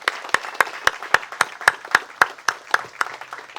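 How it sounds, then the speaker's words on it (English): Applause at a groundbreaking ceremony for a Peace Bell Tower, heard as crisp, evenly spaced claps in a steady quick rhythm, close and fairly loud, with a thinner crowd clatter between the beats. "let's give a round of applause to the Soto Zen Center North America"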